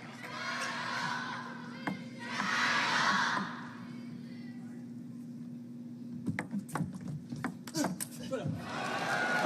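Crowd at a professional table tennis semifinal breaking into short bursts of cheering and shouting, with a sharp ball strike and rally sounds following under a commentator's voice.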